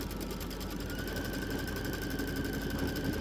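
A Kimberbell embroidery sewing machine stitching the December Stitchmas Tree design, running a steady, even, rapid whir of needle strokes close up, with no talk.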